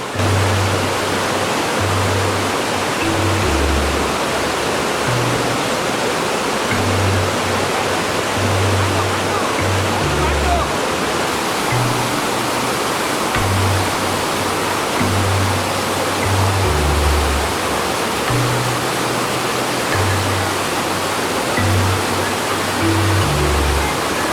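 Dudhsagar waterfall in Goa roars in a continuous, dense wash of falling water, loud and steady throughout, with faint voices underneath.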